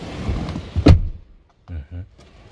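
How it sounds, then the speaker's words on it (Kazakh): A rear door of a JAC JS4 car shuts with a single sharp thunk, followed by brief quieter mechanical sounds and a voice speaking. "Кәне артқы есігі қалай жабылады көрейік."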